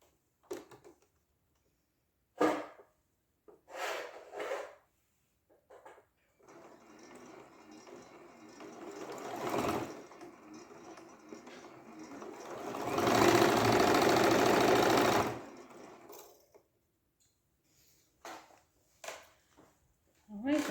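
A sewing machine stitches a quilt block seam in one steady, fast whirring run, close by, starting after a few short bursts and louder toward the end, with quiet speech around it.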